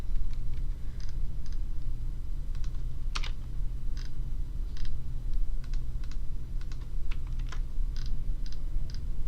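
Steady, rapid clicking of keys on a computer keyboard during data entry, close and clear over a constant low hum, with irregular bursts of keystrokes throughout.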